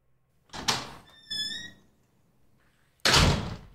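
A door opens indoors with a thunk, a short squeak, then a louder knock or slam, each event separated by brief quiet.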